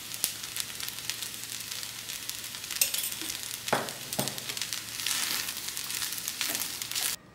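Amla rice is stirred with salt in a pan, a soft, steady scraping and gentle sizzle with occasional louder clinks of the spoon, close but fairly quiet and without voices.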